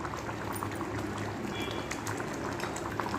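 Oily, spiced juice boiling in a pan before ginger-garlic paste goes in, a steady, dense bubbling that stays loud and close for the whole stretch.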